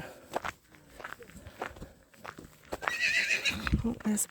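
Ponies on a working farm whinny and step about, with scattered hoof clops and a whinny near the end, heard under background noise and some talk.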